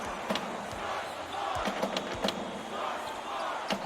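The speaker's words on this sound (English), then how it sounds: "This crowd couldn't be any happier." An arena crowd cheering in an NCAA basketball video game, a steady broad roar with sharp claps and bursts rising above it throughout.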